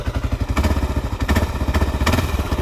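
A 1995 Suzuki DR 650 dual sport dirt bike engine runs close by, a steady loud thumping single-cylinder idle with a few sharper clattering pulses, and no talking.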